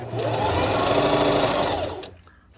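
A sewing machine runs a straight stitch along trim on a one-piece garment, a steady loud whirring burst for about two seconds before stopping abruptly.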